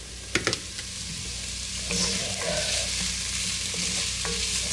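Garlic and chicken cook in a pot with a steady bubbling sizzle, opened by a few knocks of a utensil against the pot.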